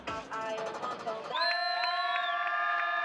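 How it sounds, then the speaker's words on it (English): Fans cheer and applaud at Circuit Ricardo Tormo in Valencia, Spain, during a NASCAR Euro Series race weekend. A brief burst of loud crowd noise gives way to a sustained, ringing tonal sound. "Still a lot of applause from your fans here at Circuit Ricardo Tormo in Valencia, Spain."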